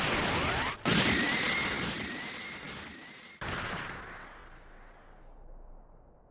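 Special Beam Cannon attack in the video game Dragon Ball Sparking Zero on PS5: a loud, dense burst of roaring energy and impacts with a rising whine, cut by a sudden blast midway, then a long rumbling decay.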